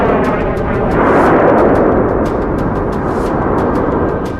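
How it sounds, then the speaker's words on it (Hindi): A loud, rumbling ground explosion swells and rolls on, with sharp crackles and pops scattered through the roar. "और फिर जमीन पर जोरदार धमाका होता है"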